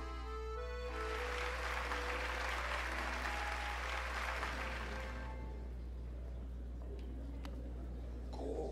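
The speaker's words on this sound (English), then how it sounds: "Hear how the crowd adores you." A dense crowd applauds in the Hollow Knight video game after the Grimm boss rematch, steady clapping that fades out after about five seconds over a low constant hum.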